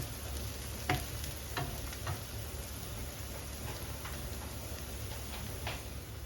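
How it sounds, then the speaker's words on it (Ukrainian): Onion and carrot frying in a pan, a steady close sizzle with occasional sharp crackles and pops, no talking. "Поки досмажуються овочі"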